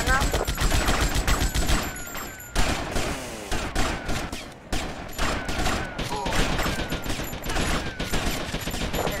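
Sustained rapid gunfire rattles through a GTA Vice City shootout against military forces, with dense automatic bursts and shots crowding together almost without pause, loud and close.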